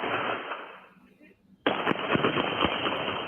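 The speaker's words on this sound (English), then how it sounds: "You can hear the gunshots there." Gunfire captured on a street surveillance camera near a park in a residential area, a loud abrupt burst of sharp shots over steady background noise, sounding fairly close.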